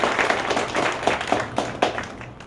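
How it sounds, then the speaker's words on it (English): An audience applauds a university biochemistry speaker at an evening science café talk, with scattered hand claps rising and falling in a short, moderately loud burst and no voices over it. "So can we have a big round of applause, Dr. Heien?"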